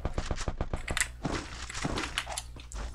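An antimatter rifle in a video game fires rapid bursts of loud gunfire that crack in quick succession, then a heavier blast with debris-like crunching follows, all close and busy.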